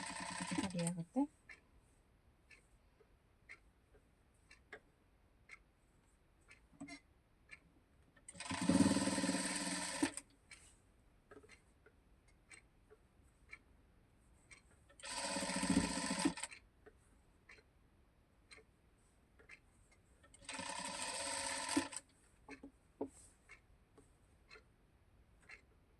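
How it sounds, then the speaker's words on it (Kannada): A sewing machine stitches piping onto a square neckline in three short whirring bursts, close and clear, separated by quiet stretches filled with soft talk and fabric handling. "ಈ ರೀತಿ ನೀಟಾಗಿ ಸ್ಟಿಚ್ ಮಾಡ್ಕೊಳ್ಳಿ"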